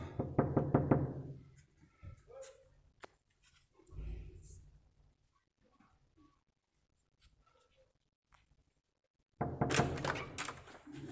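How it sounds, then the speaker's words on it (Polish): Someone knocks on a room door in the hallway of a holiday resort in Polanica-Zdrój, a quick series of sharp raps, then a dull thump, with faint movement and brief voices between, before another burst of rapid knocking at the end. "zapukam."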